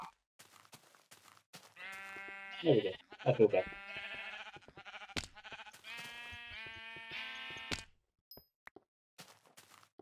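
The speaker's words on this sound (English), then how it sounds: "No, I'm talking to the sheep." Sheep in the Minecraft video game bleat in a few long, wavering, moderately loud calls, with brief speech and small knocks and footsteps between them.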